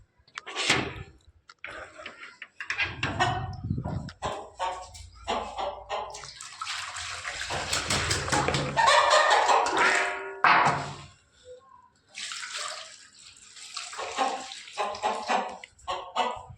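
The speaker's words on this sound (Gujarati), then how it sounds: "હવે પાણી નાખી દીધું" Water poured out for a rooster, splashing and gurgling in uneven bursts of varying strength, close by with no talking.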